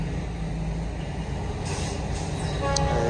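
A train rolls past close by in rural America, a loud, continuous rumble with clanking wagons and a rising metallic squeal near the end.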